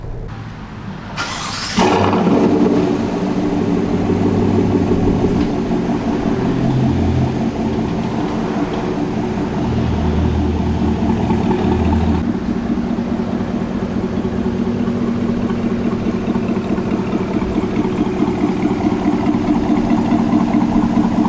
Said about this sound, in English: So let's go ahead, we'll put the truck in drive.